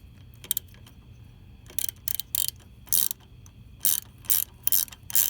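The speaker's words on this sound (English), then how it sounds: "So now you're hearing the ratchet of the socket." A ratchet socket wrench tightening a 4mm nut on a rear set mount for a V9 Bobber motorcycle: a close run of bright, quick ratcheting clicks in several short bursts with brief pauses, no talking.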